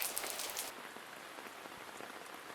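Light rain patters steadily on surfaces outdoors on a farm, a faint, even hiss with scattered soft drops and a brief louder splash at the start.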